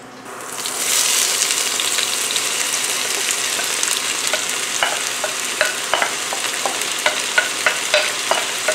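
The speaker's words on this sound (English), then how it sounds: "we're going to go ahead now and add our veggies" Chopped vegetables tipped into a hot pan for a chili cheese rice casserole, a loud burst of sizzling and frying that settles into steady crackle, with repeated sharp scrapes and knocks of stirring toward the end and no talk.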